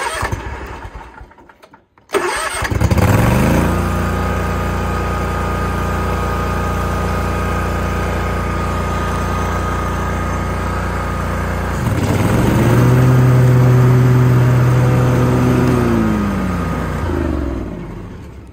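A 2018 Hustler Raptor SD54 zero-turn mower with 146 hours cranks and fires up, then idles steadily and loudly close by, its engine rising to a higher throttle note partway through before easing back.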